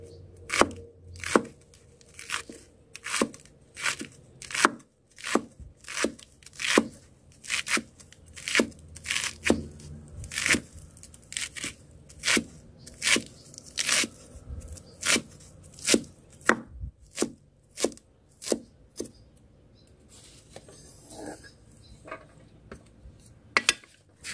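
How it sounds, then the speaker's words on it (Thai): Indian borage (tiger ear) leaves being finely chopped with a knife on a board, a long series of sharp, close, evenly paced cutting strikes, about one per second, with no talk. "ขั้นตอนแรกนะคะแล้วก็นำใบหูเสือนะคะมาหั่นนะคะ"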